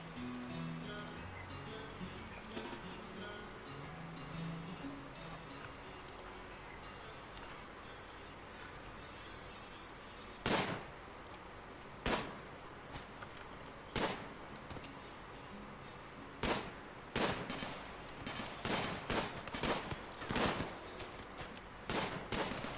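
Turrets fire in RimWorld, a run of sharp, loud cracking shots arriving singly and then in quick clusters over a steady low background hiss, with no talk.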